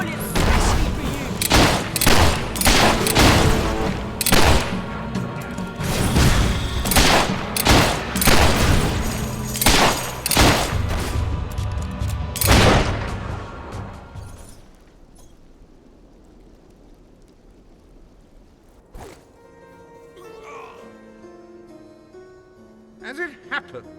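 Rapid gunfire in the video game Fable III, dense loud bursts of shots for about thirteen seconds, then quieter ambient game sound with a few isolated bangs and faint background music.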